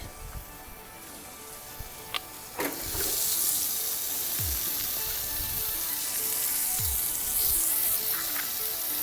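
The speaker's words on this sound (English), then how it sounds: "I'm grilling steak" Prime ribeye steaks sizzle steadily on an outdoor grill by the Gulf of Mexico, a continuous close hiss and crackle that swells slightly after the first few seconds, with no talking.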